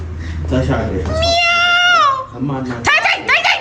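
A cat gives a long, drawn-out meow, close by, followed by shorter calls, with a person's voice before and around it.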